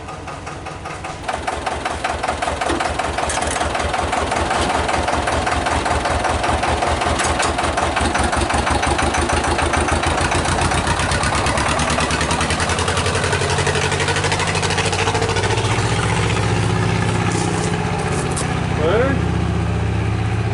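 A tractor engine idles close by with a loud, steady rhythmic chugging that drops slightly in intensity partway through, with a faint voice briefly near the end.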